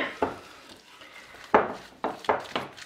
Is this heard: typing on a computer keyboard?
no